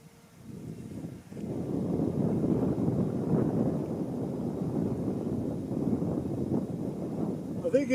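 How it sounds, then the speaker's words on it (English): A strong gust of wind rushes across an outdoor shooting range, a broad, roaring buffet of low noise that swells and holds steadily for several seconds, loud against the microphone. "you got a pretty good gust of wind going here"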